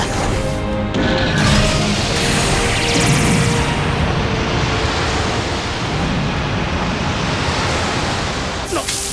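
Water ball attack splashing into the sea in an anime mecha battle scene: a loud, sustained rushing surge of water and spray that fills the whole span, with a crashing onset near the start.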